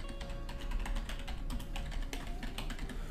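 A computer keyboard is typed on while entering a search term into a database, a quick run of soft, close key clicks at an uneven rhythm, quiet and with no talking.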